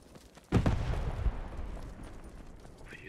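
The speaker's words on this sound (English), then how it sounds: "Mortars." A mortar round lands in the Post Scriptum war game on Crete: one sudden heavy boom at mid distance, followed by a rumbling tail that fades into quiet background noise.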